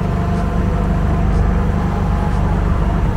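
A 2023 EZGO Express S4 gas golf car accelerates, its engine producing a steady, loud low rumble with no pauses.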